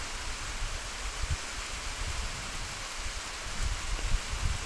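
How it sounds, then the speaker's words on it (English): Heavy rain falls in a steady, dense broadband wash, fairly loud and continuous throughout, with no voices over it. "I can hear the rain loud and clear."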